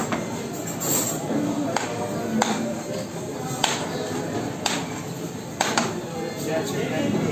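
A Yozgat-style testi kebab clay pot is struck repeatedly to crack it open, giving about five sharp knocks spaced a second or so apart over a busy room with people talking.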